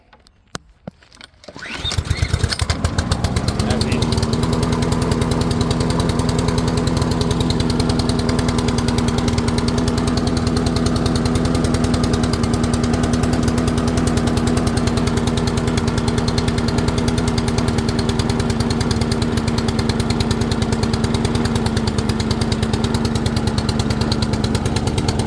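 A Honda engine on a Troybilt TB240 push mower catches after a brief pull and settles into a loud, steady running drone that holds for over twenty seconds, close by with no talking.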